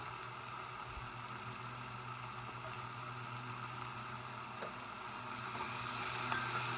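Egg biryani ingredients sautéing in a pan, with a steady, soft frying sizzle and faint stirring scrapes running evenly throughout, fairly quiet and close, with no talk.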